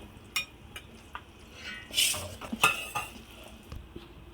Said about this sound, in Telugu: ముందుగా మిక్సీ కట్టుకున్న కొబ్బరి పౌడర్ వేసి బాగా కలుపుకొని